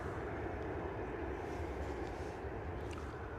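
A Ryanair airliner moves on the ground at London Stansted Airport, heard as a broad, steady engine roar from a moderate distance, continuous and unbroken.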